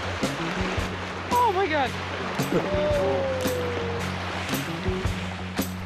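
A swollen mountain valley stream runs rough after overnight rain, a loud continuous rush of water close by, while people call out and exclaim over it during a crossing.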